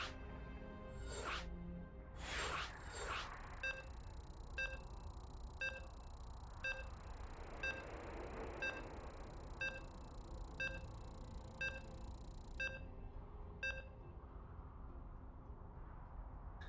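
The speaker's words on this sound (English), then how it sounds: "You can hear the beeps." Regular electronic beeps from a StarCraft II match loading screen, repeating roughly once per second for about ten seconds over steady crowd and arena background noise, bracketed by a few brighter tones.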